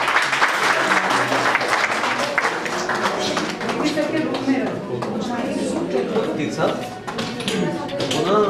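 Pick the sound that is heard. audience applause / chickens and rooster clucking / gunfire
audience applause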